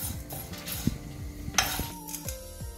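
Toor dal is dry-roasted without oil in a pan, stirred with a spatula that scrapes and clinks against the metal. Close, irregular strokes play over a faint background rustle of the lentils.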